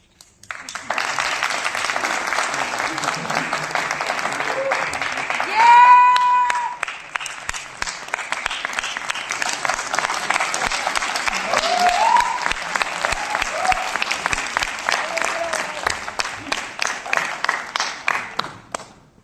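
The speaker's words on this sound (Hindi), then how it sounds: "आप लोगों की तालियां ही बजा रही है कि आप लोगों ने इस नाटक को कितना पसंद किया" A theatre audience applauds at length after a stage play, a continuous dense wash of clapping that rises and falls over the full span, with a brief voice or tone in the middle and claps tapering at the end.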